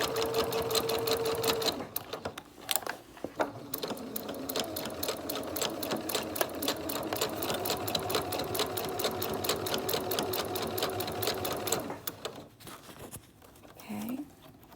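A Singer sewing machine stitches fabric along a top edge in a fast, steady mechanical chatter, pausing briefly near the start and again near the end as the fabric is moved.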